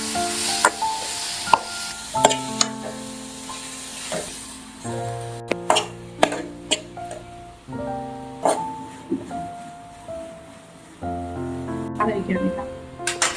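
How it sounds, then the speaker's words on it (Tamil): Tomato, onion, green chili and ridge gourd are sautéed in a pan for chutney, with soft sizzling and repeated spatula taps and scrapes while a voice talks over the cooking. "தக்காளி, வெங்காயம், பச்சை மிளகாய், பீக்கங்காய் எல்லாத்தையும் வந்து நல்லா வதப்படுற அளவுக்கு வதக்கிட்டே இருப்போம்."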